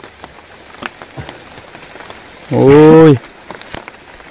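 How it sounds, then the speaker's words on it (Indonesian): Heavy rain falls steadily on a campsite at night, a dense, continuous patter with scattered nearby drips, briefly interrupted by one short, loud shout from a man. "Hujan nih, kawan."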